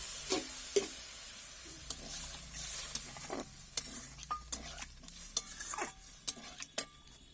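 A little water goes into spice masala frying in a pan, giving a steady soft sizzle with scattered scrapes and clicks of stirring throughout, fairly quiet and with no voices.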